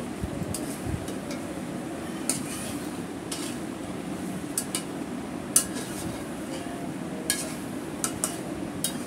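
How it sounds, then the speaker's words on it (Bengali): Chicken and spices, cumin and coriander powder, are stirred and sautéed in a pot for morog polao, with a steady sizzle under scattered sharp clinks of a spoon against the pot. "আমি মশলাটা ভালো করে মাংসের সাথে কষিয়ে নিচ্ছি।"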